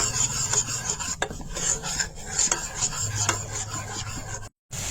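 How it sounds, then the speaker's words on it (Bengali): A spoon scrapes and rasps rhythmically as milk with cardamom is stirred in a pot on a gas stove, heard close under a steady low burner hum, with no talking. "এখন দুধটা লাড়াচাড়া করি"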